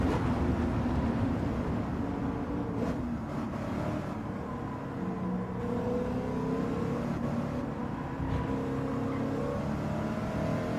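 Race car engine in the Gran Turismo 7 racing game, droning steadily at high revs with shifting pitch as the car passes a rival Aston Martin DB11 into a braking zone, continuous and loud throughout.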